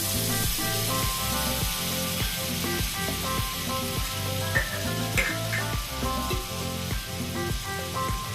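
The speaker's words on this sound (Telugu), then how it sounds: "కడాయిలో కొంచెం బటర్ వేస్తున్నాను." Butter sizzles and hisses steadily in a kadai while palak paneer is being cooked at home, a constant close frying sound under faint rhythmic background music.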